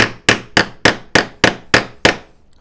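Plywood plugs hammered into drilled holes while building a paper towel holder: seven evenly spaced, sharp, close strikes with short ringing decays and no talk.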